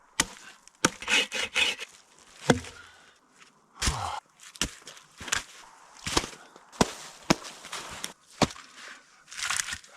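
Firewood gathered and handled around a wilderness camp: close, irregular knocks, cracks and clatters of wood pieces, with rustling and shuffling steps between them and no speech.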